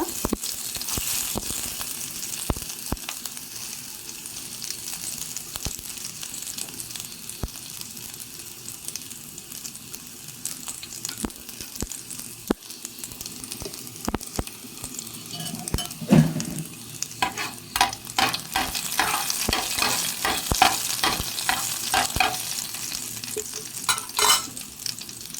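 Chopped shallots fry in hot oil with popped mustard seeds while a spoon stirs the pan, a steady sizzle under repeated scraping and clicking strokes that grow busier toward the end.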